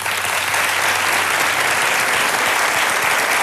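Sustained, loud studio audience applause from a Spanish television show, dense steady clapping that fills the whole stretch without pause and with no voices standing out.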